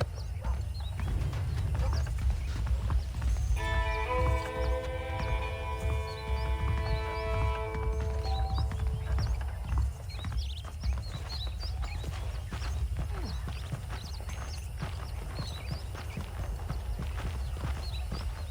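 Steady clip-clop of horse hooves on a dirt path in a western video game, a continuous walking rhythm close by, with a sustained tonal chime and faint bird chirps in the background.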